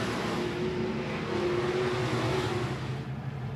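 Modified race cars roar around the I-76 Speedway oval, a blended engine drone heard from a distance with a sustained mid-pitched whine rising and easing as the cars work through a corner.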